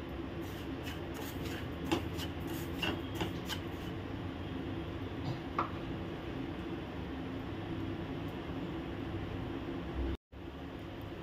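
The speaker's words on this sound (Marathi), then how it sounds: "रवा गोल्डन ब्राउन होईपर्यंत आपण भाजून घेऊया।" Semolina (rava) being dry-roasted in a pan for upma gives a faint, steady background hiss with soft scattered scraping and shuffling sounds of stirring, with no speech.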